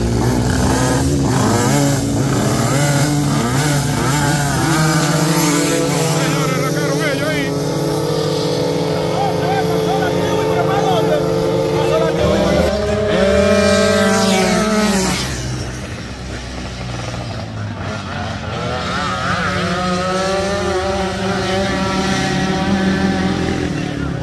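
Free-class pasola motor scooters racing on a dirt track at El Pino, Dajabón, engines revving and whining loudly with shifting pitch as bikes pass, accompanied by talk throughout.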